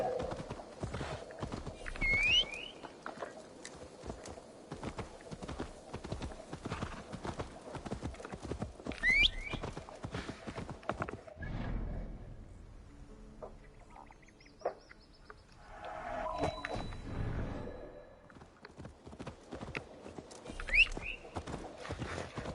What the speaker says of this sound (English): My horsey just can't follow directions when inside a city